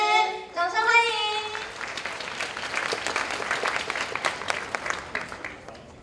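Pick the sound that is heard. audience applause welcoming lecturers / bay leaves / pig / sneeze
audience applause welcoming lecturers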